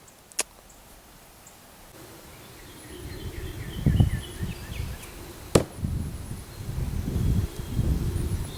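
A meat cleaver thrown with a backwards three-spin hits its target outdoors with two sharp, brief thwacks several seconds apart, under gusting wind and rustling.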